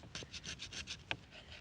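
Flint tool scraped in repeated short strokes against a soft material, giving a dry raspy rub about eight times with one sharper scrape near the end, close and fairly quiet.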